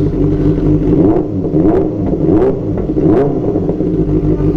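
Benelli TNT 600 motorcycle fitted with an Aro exhaust, revving up close and loud in several rhythmic blips over a deep, steady idle rumble.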